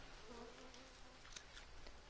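Flies buzzing around poo in the jungle survival game Green Hell, a faint continuous insect drone with a few soft passing buzzes over quiet ambient background.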